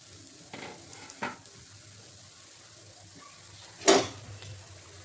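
Thalipeeth, a fasting-day flatbread, pan-roasting uncovered in a hot pan with a little oil, giving a faint, steady low sizzle broken by a couple of brief utensil clinks.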